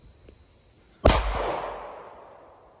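A single sharp gunshot at an outdoor shooting range, close and loud, with a long echoing decay trailing off over about a second and a half, no talking.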